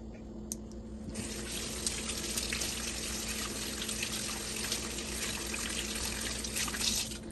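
Tap water runs steadily while crab is washed in a sink, a continuous close splashing gush that starts abruptly after a quiet moment and continues without talk.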